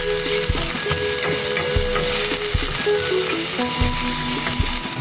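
Ginger pieces frying in a pan for the Filipino dish dugo-dugo, with a steady close sizzle and repeated scraping stirs throughout, no talking.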